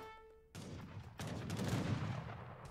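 Musketeer gunfire in the video game Age of Empires III, with a dense volley of overlapping musket shots and crackling fusillade that bursts in and builds into a loud, continuous battle din.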